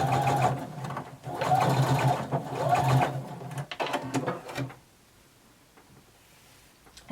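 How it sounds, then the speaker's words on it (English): A sewing machine runs in several bursts while stitching a jumpsuit seam, a fast, close mechanical whirring with brief pauses, ending in near silence. "Pivot and sew across the bottom."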